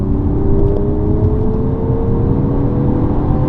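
Engine of a Mercedes-Benz GT53 AMG under acceleration, a loud steady whirring drone with rising tones heard from inside the car, continuous throughout with no talk.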